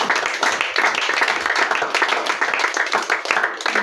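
A church congregation applauding, steady dense clapping from many hands that carries on evenly for a few seconds.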